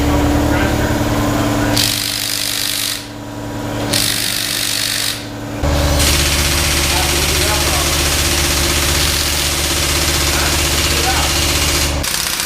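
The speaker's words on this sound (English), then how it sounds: "Waiting for the air compressor to charge up, as you can hear" An air compressor charges up in a garage during an engine teardown, a loud, steady mechanical drone with a brief dip and then a shift to a deeper, heavier hum that continues to the end.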